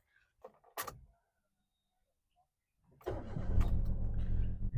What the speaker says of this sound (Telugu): వెహికల్ అయితే సింగిల్ సెల్ఫ్లో స్టార్ట్ అయింది.